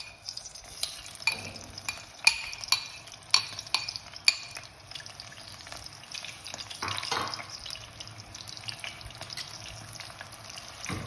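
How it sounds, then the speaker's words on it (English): Onion and green chili paste hits hot oil in a pan, a steady close sizzle broken by several sharp spoon taps against the pan early on, then a louder scraping stir, no speech. "My oil is hot. I'm putting in my onion and green chili paste."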